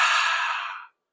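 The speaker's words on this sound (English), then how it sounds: "lion's breath exhale" A single forceful open-mouth lion's breath exhale as part of a shoulder-extension breathing exercise. It is a close, airy whoosh lasting under a second that fades out into silence.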